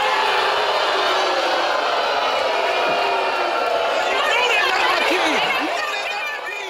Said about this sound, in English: The crowd is fired up. They're booing.